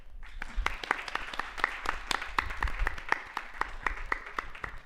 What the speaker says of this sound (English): Can we have a huge round of applause for the winning team?